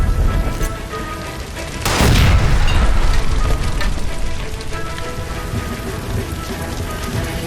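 Gas line explosion in the LA Noire video game: a sudden loud boom lands partway in and gives way to a sustained roaring rumble, like heavy fire or falling debris, continuing to the end.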